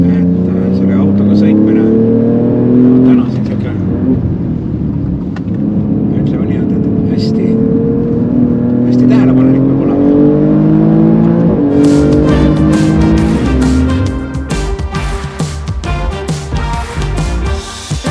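A car accelerates on damp asphalt in cool weather, its engine note rising through several gear pulls with close, loud revving, while a person talks over it throughout.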